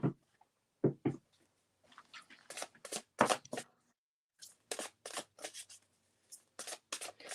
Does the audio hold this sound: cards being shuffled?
yes